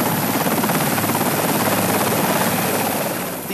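Air-sea rescue helicopter launching for missing divers, a steady, loud rotor thrum and turbine roar holding constant throughout, easing slightly at the end.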